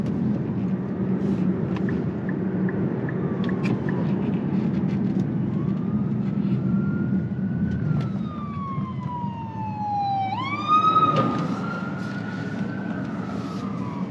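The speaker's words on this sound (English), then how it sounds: "then here comes the ambulance." An ambulance siren wails through steady traffic noise, heard from inside a 2023 Nissan Ariya, rising and sweeping in pitch as it approaches and passes nearby, loud and clear.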